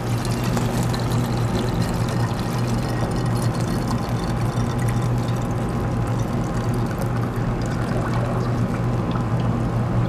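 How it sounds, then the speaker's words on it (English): Molten candle wax poured into a spouted measuring cup for a homemade candle, a steady liquid pour heard close up and continuous throughout, with a low hum underneath and no talking. "Now first I'm gonna pour it into a measuring cup with a nice little spout for easy pouring into my cup."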